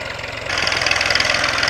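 A Massey Ferguson 1035 DI tractor engine runs close by in second gear while pulling a wheat sowing machine, a loud steady diesel chugging that rises in intensity partway through.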